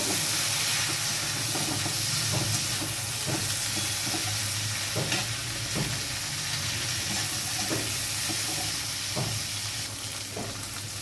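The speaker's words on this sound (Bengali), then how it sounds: "দিয়ে আমি এটাকে ভালোভাবে নাড়াচাড়া করে নেব।" Spices with half a spoon of turmeric sizzle loudly in a hot pan while a spoon stirs them, giving a constant frying hiss broken by repeated scraping taps.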